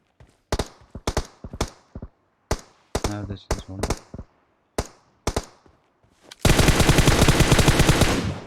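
PUBG Mobile gunfire: a string of sharp single shots at irregular intervals, then a sustained loud burst of rapid automatic fire near the end, all close and with no speech over it.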